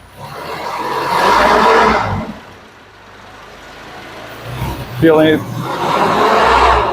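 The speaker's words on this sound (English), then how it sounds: "We give it a little bit of throttle and it splutters all over itself." The engine of a worn Amigo stutters and splutters under throttle: a loud, rough roar swells, dips to a low idle, then surges again with uneven pulses.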